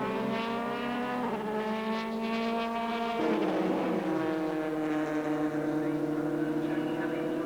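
A Dallara Renault race car run by Mark Bailey Racing howls past on track, its engine note rising and sweeping down in a clear Doppler pass, loud and close, with no talk over it.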